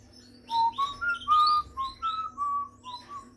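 Pet birds in a cage give a series of bright, whistled chirps and short tweeting notes, close by and moderately loud, over a faint background hum.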